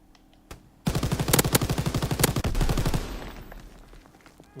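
A rapid burst of automatic gunfire in the video game Call of Duty, loud and rhythmic for about two seconds before trailing into a fading rumble, preceded by a single sharp shot.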